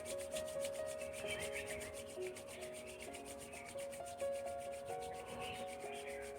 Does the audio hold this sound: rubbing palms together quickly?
yes